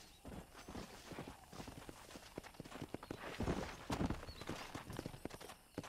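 Horse hooves clip-clopping in the Western video game Red Dead Redemption, a quick, continuous run of close hoofbeats with uneven rhythm, moderately faint overall.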